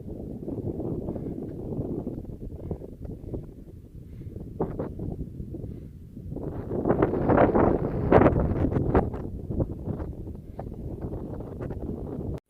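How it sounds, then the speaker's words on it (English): Wind gusting across a mountain pass in the North Cascades, a continuous low roar buffeting the microphone that eases off, then swells into stronger rushing gusts before settling again; no voices. "Kind of windy and the clouds are rolling back in."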